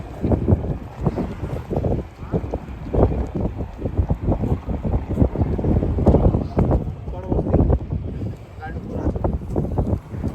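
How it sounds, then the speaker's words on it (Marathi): A boat arriving at a pier near the Pagoda in Mumbai, heard as a steady engine rumble and wind buffeting the microphone, with people talking over it throughout. "बोट आलेली आहे मित्रांनो."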